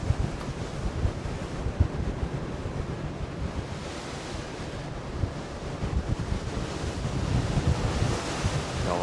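Atlantic Ocean waves wash against the hull of the MSC Meraviglia cruise ship, a continuous surging roar with heavy wind buffeting the microphone and swells building louder toward the end.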